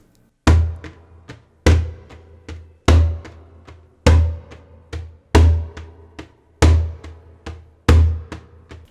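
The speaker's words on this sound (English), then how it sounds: "So on the djembe, it will sound like this." Djembe drum played alone in a steady rhythm, with a loud, deep bass slap recurring every three strokes and lighter, ringing hits between, close and clear throughout.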